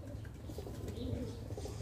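A young pigeon, still a squeaker, gives soft, faint cooing squeaks in a quiet setting, a brief murmuring call with no voices over it.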